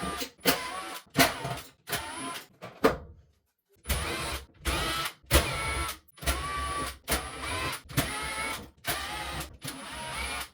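A powered screwdriver with a T25 Torx bit backs screws out of a Maytag dryer in about a dozen short, whirring bursts separated by brief pauses, close and moderately loud.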